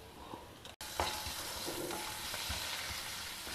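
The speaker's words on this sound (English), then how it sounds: "Stir fry it." Turmeric, Kashmiri chilli powder and salt stir-fried in a pan for South Indian arisi upma give a soft, continuous sizzle with scattered scraping stirs and one brief dropout near the start.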